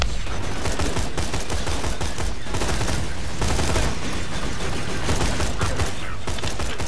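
A Borderlands 2 rocket launcher firing three rockets at a time makes loud, continuous volleys of blasts and crackling bursts, dense and close throughout.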